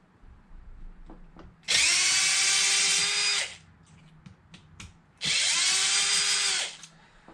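A cordless power drill driving a slightly bent bit while an Arrma Infraction RC car is being assembled, two loud whirring runs of about two seconds each separated by quiet handling clicks, close up, with no talking.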